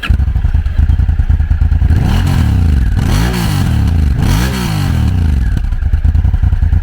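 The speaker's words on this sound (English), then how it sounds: "it literally comes out as 2 exhausts out the back that gives it a nice crisp sound." A close Honda Africa Twin motorcycle idles with a throaty, crisp rumble from twin rear exhausts, then revs twice in rising and falling swells before settling back.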